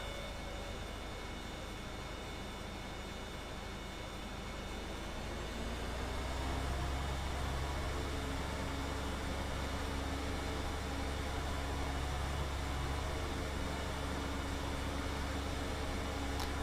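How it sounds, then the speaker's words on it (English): An air seeder runs in Farming Simulator 2013, a steady, even mechanical hum with a low tractor drone that swells slightly louder partway through and then holds constant with no talk. "it sounds like the seeder is still on yet"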